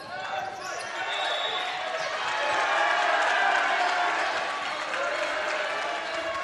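Crowd at an Opunake secondary school basketball game at the national championships, a steady indoor roar of cheering and shouting that swells in the middle, with sneaker squeaks and ball bounces mixed in.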